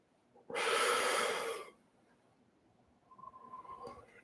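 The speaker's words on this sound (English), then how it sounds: "You can do it with a single breath if you wish." A single deep breath drawn in and let out during a quiet guided heart-space meditation, one loud broad rushing inhale lasting about a second, followed by a softer faint exhale trailing off near the end, with no talking.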